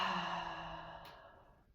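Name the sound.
full exhaling breath during yoga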